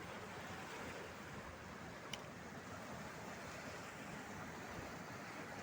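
Ocean surf rolls in at Manly Beach in Sydney, a faint, steady wash of waves mixed with wind noise, with one brief sharp tick partway through.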